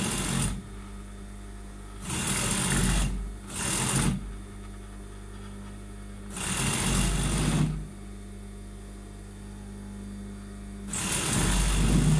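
A sewing machine stitches the side seam of a lace skirt in several short close bursts of whirring, separated by brief quiet pauses.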